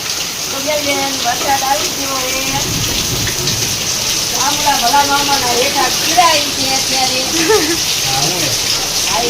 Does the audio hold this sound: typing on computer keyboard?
no